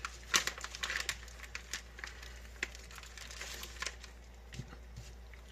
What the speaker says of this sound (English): take your bacon, take your knife, cut that bad boy open